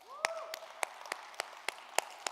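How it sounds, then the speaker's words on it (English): A sparse, quiet round of clapping follows a talk at the SCaLE 22x conference, about eight distinct claps spaced at a slow, even rhythm in a fairly small room, with a faint voice briefly audible at the start. "can we give another round of applause for Justin in his talk?"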